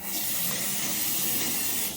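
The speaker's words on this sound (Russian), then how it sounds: "Давайте посмотрим напор воды." A bathroom tap runs at full pressure, a steady, broad rushing hiss of water held close and loud for the whole stretch, with no talk over it.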